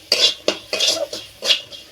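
Ground cumin, coriander, turmeric and a split chilli are stirred and fried in a pan, giving a rhythmic series of close scraping, hissing strokes about every half second, with no talk.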